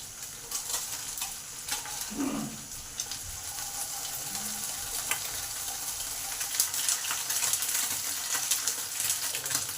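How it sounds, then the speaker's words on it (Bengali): Small mourala fish frying in oil in a pan, a continuous close sizzle with occasional spatters and a brief scrape as the fish are turned, steady throughout without talking. "মাছগুলোকে এবারে আস্তে করে উল্টিয়ে নেবো এপিট ওপিট করে একটু লাল লাল করে ভাজতে হবে"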